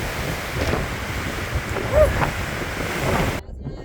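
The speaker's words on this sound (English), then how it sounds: "Windy, windy, windy." Strong wind buffets the microphone high on a mountain pass in the Sierra Nevada, a rough, gusting roar that swells and eases before cutting off abruptly near the end.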